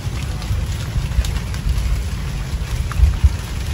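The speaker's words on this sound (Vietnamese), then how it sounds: "Ông trời cũng mưa nè cả nhà, mưa lâm râm lâm râm." Light drizzling rain falls steadily during a rainy-day net-fishing outing in the Mekong Delta countryside, a continuous soft hiss with scattered faint drops and low rumbling underneath.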